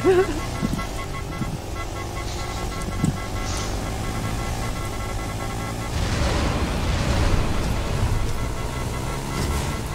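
Car horn honking in the Fortnite video game, a few short toots early on over engine and road noise, with players talking and laughing throughout.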